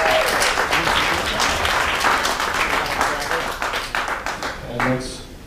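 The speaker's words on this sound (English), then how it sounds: "how about a round of applause for Pat?" A wedding reception crowd applauds for Pat, with dense, sustained clapping for several seconds that thins out toward the end while a voice speaks faintly.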